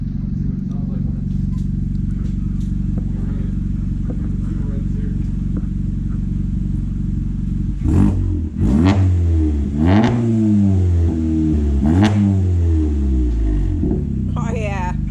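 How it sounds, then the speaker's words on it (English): A Volkswagen Jetta GLI 35th Anniversary engine idles with a deep, steady rumble, then is revved several times in sharp bursts that rise and fall through a loud MBRP aftermarket exhaust. "here I'm going to do a couple revs"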